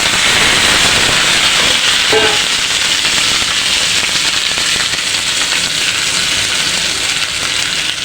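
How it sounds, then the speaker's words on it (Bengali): Fried kochur loti (taro stolons) dropped into a hot pan with mustard oil, black cumin and chopped garlic: a loud, continuous crackling sizzle that holds steady throughout. "দিয়ে দিব কালো জিরে রসুন কুচি ভেজে রাখা কচুর লতিগুলো দিই"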